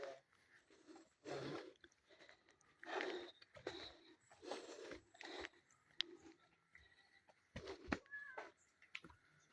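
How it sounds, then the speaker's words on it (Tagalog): A cat meows several times at close range on a mountain trail, short irregular cries separated by quiet gaps, with some soft rustling in between. "May pusa rito."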